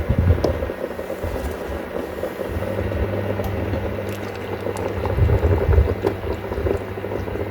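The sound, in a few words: household ammonia boiling in a pot with electronics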